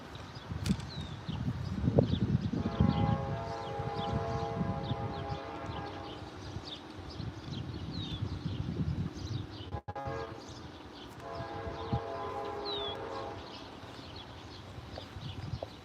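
A distant CSX freight train horn blows in long sustained tones, sounding twice with a pause between, over rumbling rail noise and faint birdsong, in Gates, New York.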